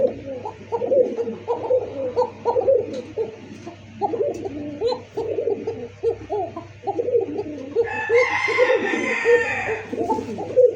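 A single male pigeon repeatedly coos in deep, rolling phrases close by, steady and persistent, while other birds chirp faintly in the background and a brief rustle rises toward the end.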